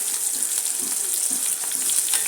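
Chopped onions with kalonji seeds frying in oil in a pan for a tangy fish and tomato curry, a steady close hiss and crackle of sizzling with soft stirring scrapes, no voices.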